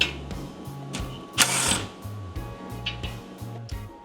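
Ratcheting power tool backing 13mm bolts out of the front cross brace on a 2023+ Mercedes Sprinter van, in short repeated bursts with a sharp rattle near the middle, close by.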